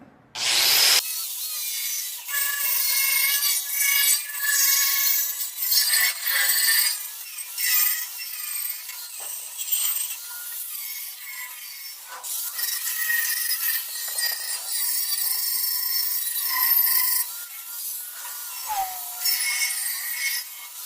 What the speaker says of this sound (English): I've just got a 40 grit flat disc on the angle grinder. And I'm going to prep these welds